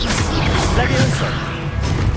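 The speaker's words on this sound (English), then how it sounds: "Levioso!" A Levioso spell is cast in a Hogwarts Legacy battle: a short magical smash and whoosh cut through heavy, constant low combat rumble, with a voice calling out over it.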